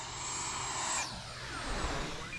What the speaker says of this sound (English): We're gonna come in at full throttle and cut it right at the last second, and you can kind of hear the wind rush over the wings.